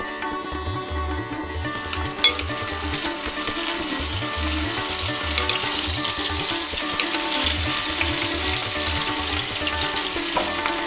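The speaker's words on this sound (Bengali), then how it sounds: "ফুলকপি আর আলুটা আমি ভেজে তুলে নেব" Cauliflower and potato pieces fry in hot oil, a loud, continuous close-up sizzle with a rhythmic low stirring or bubbling pulse running underneath throughout.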